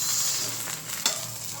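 An egg frying in a pan gives a steady, close sizzle with a soft scrape partway through, and no voices.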